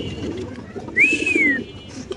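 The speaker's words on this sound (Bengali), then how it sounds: "সাদা ইন্ডিয়ান বোম্বাই কবুতর যদি জুটি বড় নিতে চান কেউ" White Indian Bombay pigeons at a pigeon farm coo low in the background, with one sharp rising-and-falling bird call cutting through near the middle over a busy room tone.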